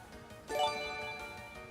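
A bright chiming notification tone from a mobile phone rings out once, sharp at the start and then lingering with a ringing decay over a faint steady background hum.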